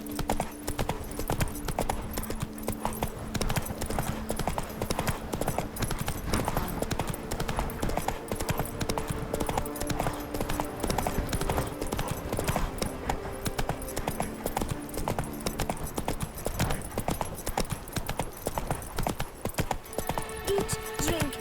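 Horse hooves clip-clopping steadily across the full length of a Witcher 3 game scene, with a rhythmic patter over a continuous bed of game music and ambience.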